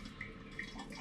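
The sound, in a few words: water squeezed from brewing grain in sieve with plastic spoon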